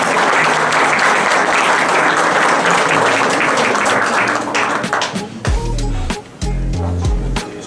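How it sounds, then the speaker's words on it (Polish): Applause for the women players at the Polish chess championship in Warsaw, a loud sustained clapping that thins out near the end, where a voice speaks over it. "Brawa dla naszych zawodniczek."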